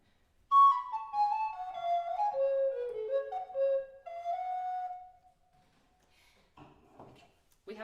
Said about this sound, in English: Let me take the correct recorder.